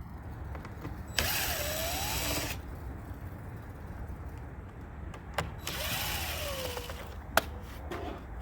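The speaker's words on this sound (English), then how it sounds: "It is a Torx bit T10, so we'll take those two screws out." A power driver with a Torx T10 bit backs two screws out of the side mirror of a 2020 Ford Transit van, two whirring bursts of about a second each separated by quiet handling clicks.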